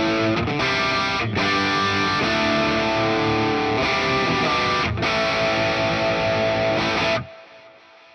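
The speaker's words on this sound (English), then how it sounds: "this first scene, scene number three on the overdrive amp, I've set up as a kind of crunch sound" Crunchy overdriven electric guitar through a Hotone Ampero II Stage amp scene with light reverb and delay, strummed chords ringing steadily for about seven seconds, then cut off with a short decaying tail.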